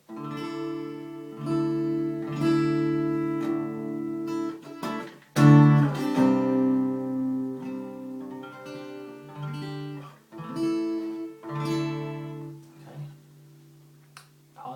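Guitar barre chords ring out repeatedly, strummed and left to sustain, with some muted or buzzy attempts between, close and moderately loud.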